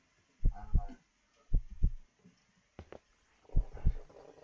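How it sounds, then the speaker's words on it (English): A video game heartbeat thuds in three paired double beats, lub-dub pulses spaced about a second apart, close and clear with no talk over them. "There's a heartbeat."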